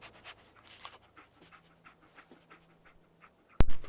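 Dogmeat, the dog companion in the Fallout 4 video game, pants in quick soft rhythmic breaths, faint and close, with a sharp loud click near the end.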